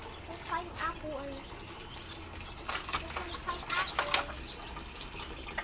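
A few short clucks from a chicken being brought out to feed on scattered rice, faint and intermittent over background noise and clattering, with people talking nearby.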